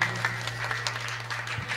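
An audience at a bhajan gathering claps in welcome, a short burst of scattered hand claps over a low steady hum.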